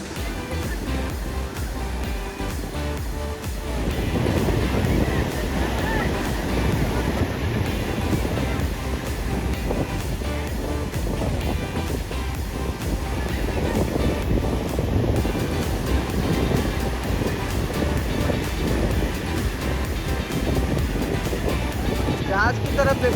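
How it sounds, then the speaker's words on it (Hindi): Sea waves and wind at Puri beach on the Bay of Bengal, a steady broadband wash of surf with gusting wind across the microphone, loud and continuous throughout, with voices faintly present in the background. "आप इन समुद्र की लहरों को आवाज़ को सुनिए।"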